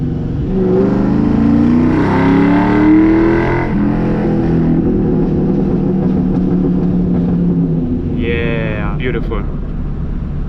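A Mustang's engine revs and pulls hard while driving, loud and close in the cabin, with someone talking over the rising engine note before a brief higher whine near the end.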